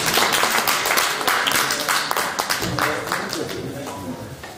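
A live audience claps steadily and densely for poet Ferhan Yeşil at a poetry anthology launch event; the applause slowly fades toward the end, with a voice speaking over it.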